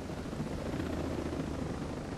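A helicopter in a video game thrums with a steady, dense rotor chop and engine drone, close and continuous throughout with no voices.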